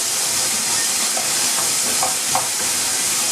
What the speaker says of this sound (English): I'm going to give this a stir now